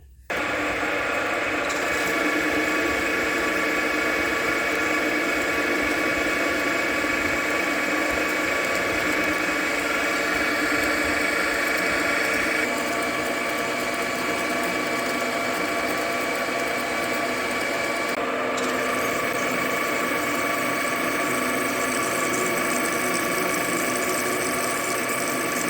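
Lathe machining a tractor part at 500 RPM with a tenth-hour feed rate, a steady mechanical hum and whine of the spindle and cut that runs continuously and close, with slight tonal shifts and no talk.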